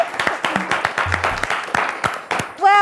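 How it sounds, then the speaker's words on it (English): Studio audience applauding a winning quiz team on a children's quiz show, a steady patter of clapping lasting a few seconds before ending in a brief electronic tone. "Let's give them a round of applause!"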